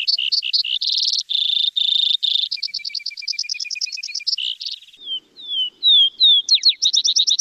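A vesper sparrow at Lake Tahoe sings alone and close, a long varied song of trills and rapid notes, then a few clear slurred notes and a final buzzy flourish.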